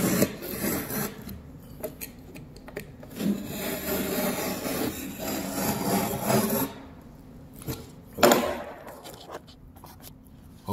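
A knife slices through drywall for a drywall knockout, giving close scraping and rasping strokes in uneven bursts with short pauses between them.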